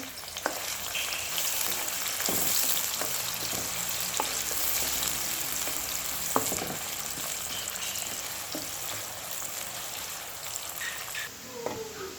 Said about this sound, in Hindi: सबसे पहले हम प्याज जो है वो गोल्डन कर लेते हैं अपनी।